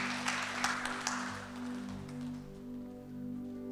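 A congregation claps at a Sunday Hindi church service at Kinoya Assembly. A short burst of applause fades out after about a second, leaving a steady low hum.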